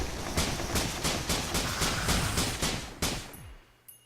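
Shotgun-like gunfire from the video game Risk of Rain, a rapid run of about eight punchy blasts in an even rhythm that stops abruptly with a short descending tail.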